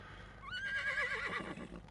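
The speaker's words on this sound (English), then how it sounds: "It's where the horse sound comes from in this." A horse whinnies in a single loud, high, quavering neigh that falls in pitch over about a second, used as a short sound effect in a video intro with no one talking.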